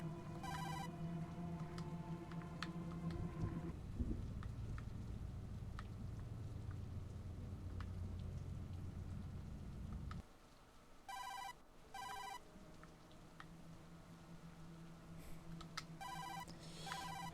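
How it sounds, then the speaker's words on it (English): Mobile phone ringtone in the video game Tokyo Dark, electronic ringing bursts repeating in short clusters over a steady background of rain and ambient drone, no talking. "No doubt about it, that's Koski's phone"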